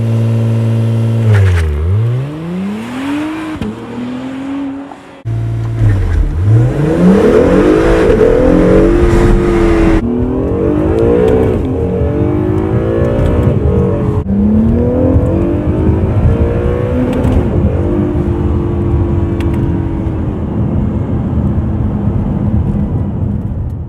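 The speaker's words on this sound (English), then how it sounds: "So we're going to do some pulls here, a little launch control, and show you what this thing does now." A tuned Acura NSX twin-turbo hybrid fitted with an aftermarket exhaust launching hard under launch control, its engine snarling up through repeated rising gear pulls with shifts between them, loud and close.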